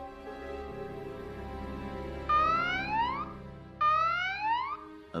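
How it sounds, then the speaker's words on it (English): An alarm siren in the Valkyria Chronicles 4 video game, rising wails that sound twice over a steady background music bed, fairly loud and clear. "That's the alarm. Guess the Imperials have popped up."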